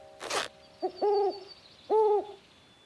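An owl nesting inside an old hat gives two clear hoots close by, preceded by a short rustling burst, against a quiet background.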